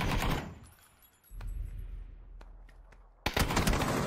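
Bursts of AK rifle fire from a PUBG gunfight, loud and close, opening with rapid shots, then a quieter stretch with a few sharp isolated cracks before a heavy burst resumes near the end.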